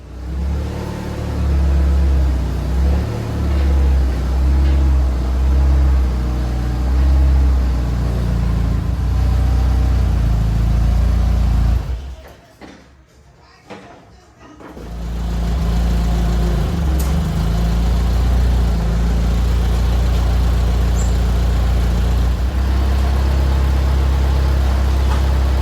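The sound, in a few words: forklift engine running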